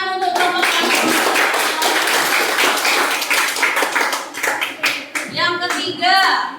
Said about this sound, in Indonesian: Tepuk tangan untuk kelompok transformator.